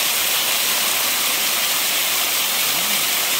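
Adyar waterfall at Valachil near Mangaluru roars as a loud, steady rush of falling water, a dense unbroken hiss close by with no talk.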